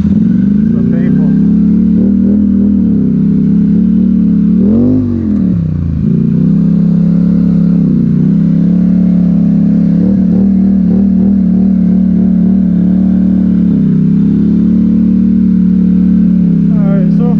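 A Polaris Sportsman 1000XP ATV runs on a newly installed engine, idling loud and close with a steady low throb, one brief rev and dip near the middle, and a light mechanical clatter throughout.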